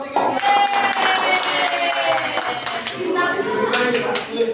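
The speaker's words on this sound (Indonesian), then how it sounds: "Beri tepuk tangan untuk nomor 3." Students in a classroom clap briefly during a microteaching lesson, light scattered applause mixed with voices and room noise.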